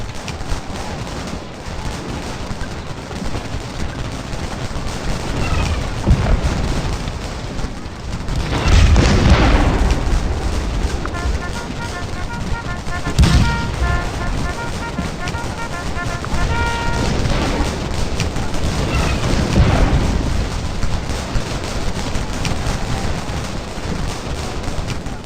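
Massed musket volleys from Civil War regiments in the strategy game Scourge of War: Gettysburg, rolling fusillades and booming bursts that swell and fade repeatedly over a steady battlefield din, loud and continuous.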